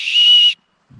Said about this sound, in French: Presque tous les sacs maintenant sont équipés d'un sifflet.